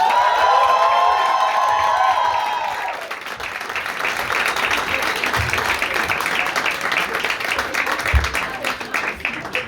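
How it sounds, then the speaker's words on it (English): Audience at a comedy show bursts into loud applause and cheering with whoops, the clapping steady and close, while music plays over the first few seconds and then fades. "give a big round of applause to Isha!"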